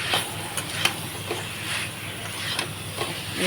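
Taro stolons stir-frying with salted hilsa fish in a pan, a steady loud sizzle and hiss with soft scraping stirs recurring every half second or so, close up.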